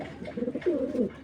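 Young silver Beji pigeons give a short, close, throaty coo, a few soft rolling notes within about a second.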